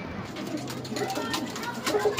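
A pigeon, a trapped ringed racing bird, coos softly up close while someone speaks over it and the bird's soft calls sit under the talk.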